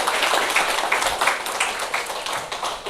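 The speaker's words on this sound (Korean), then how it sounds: "박수 주세요, 여러분." Seminar audience applauding together: a dense, steady wash of many hands clapping that holds at an even level for the whole stretch.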